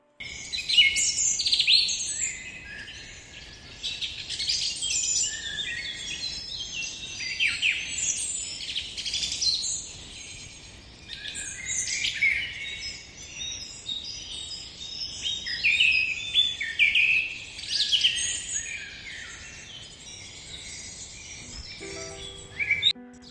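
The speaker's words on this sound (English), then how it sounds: "These are the chirping sounds of birds which you can hear early in the morning." Several birds chirp and sing in the early morning, with bright overlapping tweets and calls that come in bursts over a quiet background, moderately close and with no voices.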